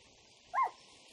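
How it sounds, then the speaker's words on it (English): A puppy in the video game Kingdom: New Lands gives a single short yip over a quiet, steady background hum. "It's another puppy!"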